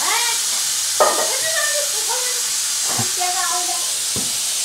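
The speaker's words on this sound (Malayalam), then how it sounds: "ആ കുക്കറിന്റെ സൗണ്ട് കുറച്ചാ, ആ സൗണ്ട് കുറച്ചാ കുക്കറിന്റെ." A pressure cooker hisses out steam in a steady, bright rush that runs through the whole stretch, while people talk close by over it.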